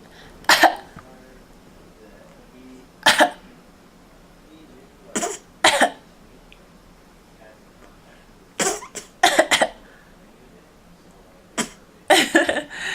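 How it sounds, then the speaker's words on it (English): A child gives several short, forced coughs in separate bursts, some single and some in quick pairs, close by against a quiet room. "she just fake coughs all the time"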